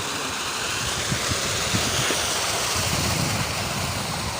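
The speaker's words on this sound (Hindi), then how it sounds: "तेज़ पानी झरने का।" A rushing waterfall with fast-flowing water in the Kaghan–Naran valley, heard as a loud, steady broadband roar filling the whole stretch, with no talk over it.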